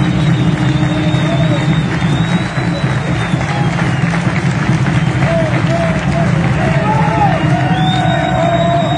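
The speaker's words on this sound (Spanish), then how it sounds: "Aplausos." Steady, loud applause and cheering fill a convention hall in Puerto Vallarta at a Vikingos Despertar gathering. Whoops and shouting voices rise over the sustained clapping throughout.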